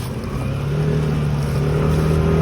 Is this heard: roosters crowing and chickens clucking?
no